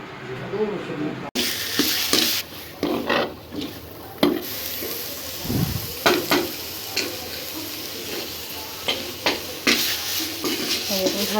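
Taro stems cooking into a curry in oil, frying and sizzling steadily while being stirred, with scraping strokes of the spoon against the pan recurring throughout.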